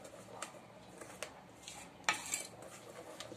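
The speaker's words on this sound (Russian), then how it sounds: "Так, все мы это хорошенечко перемешали." Utensil scraping and clinking against a bowl while ingredients for Easter kulich are mixed, with a few sharp taps and softer scrapes at irregular intervals, faint and close.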